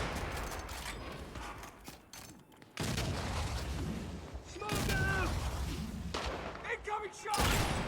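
Gunfire and battle noise from the video game Gears 5, with dense bursts of shots, mechanical clanks and rumbling explosions running throughout, moderately loud and busy, with a few chirpy in-game effects mixed in.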